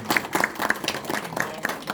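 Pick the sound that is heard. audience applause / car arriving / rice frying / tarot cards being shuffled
audience applause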